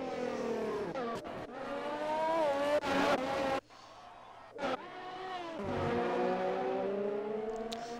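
Race car engine in an Xbox racing game, loud and continuous with rising and falling revs and brief tire noise as a car spins out on a track.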